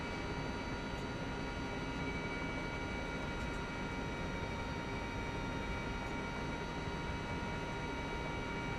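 Mi-2 helicopter in Microsoft Flight Simulator 2024 droning steadily throughout, a dense, constant engine and rotor roar with whining tonal layers, no talk over it.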